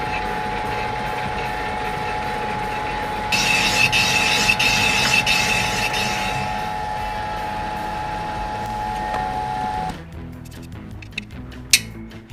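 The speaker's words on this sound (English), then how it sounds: "do the last bit with the honing tool. I'm first gonna take a spring cut" A honing tool takes a spring cut in a big-bore stroker engine cylinder bore, giving a steady, loud mechanical whir with a constant tone and a harsher grinding stretch. It then stops, leaving faint clicks and a sharp knock.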